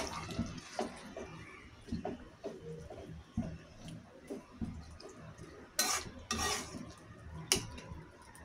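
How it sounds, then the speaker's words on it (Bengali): Chicken pulao being stirred in a pot, with irregular scraping and clinking of a utensil against the metal, some sharper louder clanks and water-like sloshing, moderately close with no speech. "এখন আবার নাড়াচাড়া দিয়ে দিব,"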